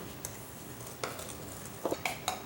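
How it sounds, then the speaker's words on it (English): Cake batter with two eggs for a pumpkin bundt cake being mixed with a spoon in a bowl, a few soft, sparse clinks and taps, quiet and close. "Spoon, just mix it together."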